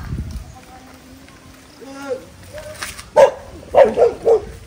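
A few dog barks, loud and close, come in a quick series near the end after a quieter stretch of outdoor background while exploring a residential property, with people talking around them.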